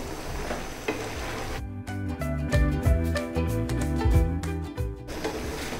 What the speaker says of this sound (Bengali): ঢাকনাটা উল্টিয়ে একটু নেড়ে দিচ্ছি